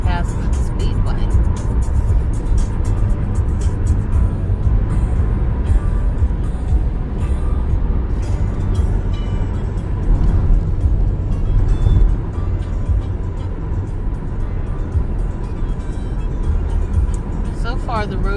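A Subaru rolls along an Indianapolis highway past the speedway, giving a steady, loud road roar and tire rumble throughout, with passing traffic adding swells of noise.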